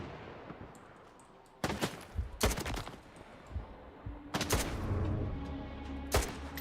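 Gunfire in STALKER 2: several sharp bursts of rapid shots crack out in clusters, loud and close, with quieter scattered shots and rumble between them.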